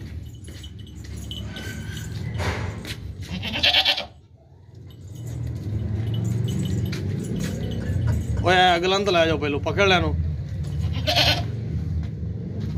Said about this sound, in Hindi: ये देखें खूबसूरत बकरी है और उसके नीचे बच्चा है।